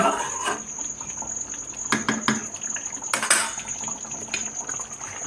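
A kadai (wok) is rinsed under running water in a home kitchen after cooking fish curry: a soft stream of water with several sharp metallic clanks and knocks of the pan.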